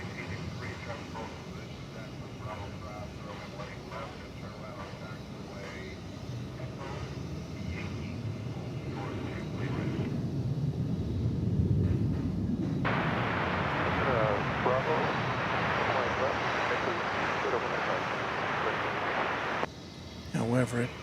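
A Qatar Airways Boeing 777-300ER jet roars past at DFW Airport in a broad, sustained rumble that swells and shifts in tone as it goes by, with speech over it.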